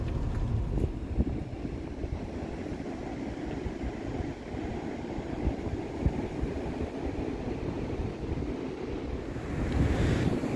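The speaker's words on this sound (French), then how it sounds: "désolé, il y a du vent" Wind buffets the microphone in a constant rumbling gust, with surf washing faintly behind it on an open beach.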